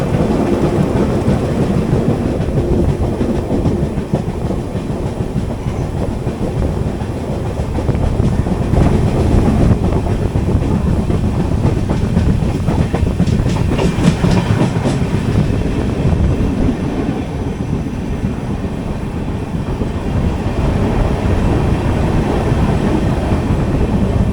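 An AC Economy coach on the 16381 Pune Kanniyakumari Express rolls along near Thiruvananthapuram Pettah, giving a loud, steady rumble with rhythmic clickety-clack from the wheels and a brief swell of rattling midway.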